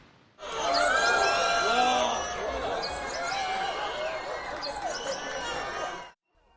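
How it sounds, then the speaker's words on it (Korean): Spectators gathered about 15 km from the pad cheer, whoop and clap as the Nuri rocket lifts off, a loud sustained crowd roar with high shouts and whistles that swells and then cuts off abruptly near the end. "일대는 함성과 박수로 뒤덮였습니다"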